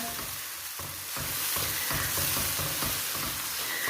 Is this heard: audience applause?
no